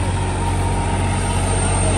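A New Holland 3600 Heritage Edition tractor runs a rotavator with no load, its engine a steady, loud, droning hum with a constant tone and no variation in pace.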